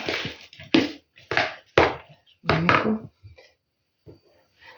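Wooden spoon stirring salt into a bowl of cheese filling for lavash rolls: a string of close, dull scraping thumps in irregular bursts, then a few faint taps trailing off into quiet.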